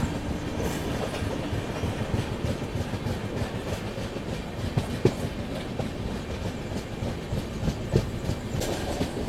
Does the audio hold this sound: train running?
yes